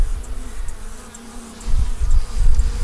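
Honey bees buzz around an open hive frame during cleanup of wax moth damage, a steady close drone with low rumbling handling noise that grows louder toward the end.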